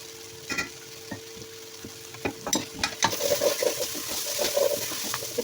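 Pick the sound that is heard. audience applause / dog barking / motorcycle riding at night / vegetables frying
vegetables frying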